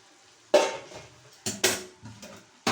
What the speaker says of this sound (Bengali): তো আরো 10 মিনিট হয়ে গেছে, এবার আমি ঢাকনাটা খুলে দিচ্ছি।